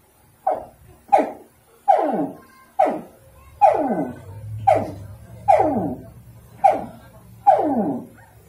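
A voice imitates a baby alligator's grunting call, giving about ten short, sharp, evenly spaced yelping grunts, each falling in pitch, close and loud, with a faint low murmur behind some of them.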